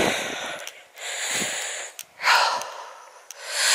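Heavy, ragged breathing after a climb up through woodland to Piney Sleights near Cheddar, loud and close to the microphone, with several long rasping breaths broken by short pauses and no talking.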